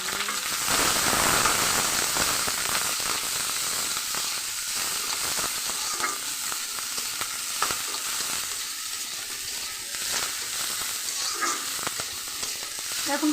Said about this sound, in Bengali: তো কড়াইয়ে এখন রসুন, কাঁচামরিচ আর পেঁয়াজ ভাজা নিচ্ছি।